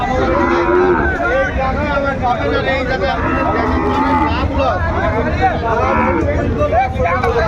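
At a busy cattle market in Dinajpur, a Sahiwal bull calf and other cattle moo among dense crowd babble, with loud, constant voices and animal calls close by.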